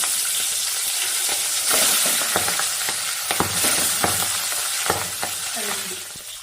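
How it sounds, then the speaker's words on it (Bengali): Steady crackling sizzle of pabda fish frying in hot oil in a wok, with occasional louder pops and spatters throughout; no talking. "এখন কড়াইতে তেল দিয়ে দিলাম মাছ দিয়ে দিলাম"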